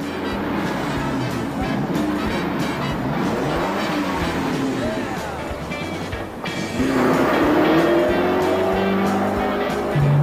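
A car engine revs hard while driving, pushing around 7,000 rpm in third gear; a loud, continuous roar with rising and falling pitch sweeps and a shift partway through, with no talk over it.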